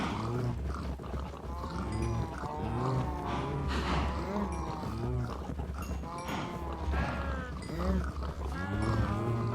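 Minecraft cows moo repeatedly in overlapping, drawn-out calls at moderate loudness, with a voice talking over parts of the herd's lowing.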